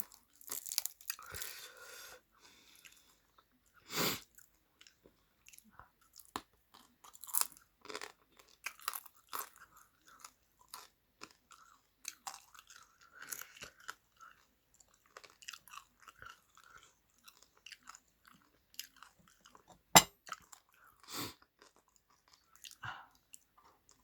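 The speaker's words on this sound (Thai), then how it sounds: "หัวปลาทอดกรอบๆจ้าอืมแซ่บหลาย" Crispy fried fish head is bitten and chewed close to the mic, with loud crunches separated by quieter stretches of chewing and mouth sounds over about twenty seconds, with no talking.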